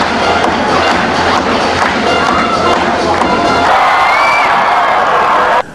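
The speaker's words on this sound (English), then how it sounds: "put him in a concrete and steel box full of screaming people who are banging their feet and screaming and disco music" A packed dolphin show stadium roars with screaming, cheering and foot stamping, a dense, loud and continuous wall of crowd noise with a few higher shouts, which then cuts off abruptly.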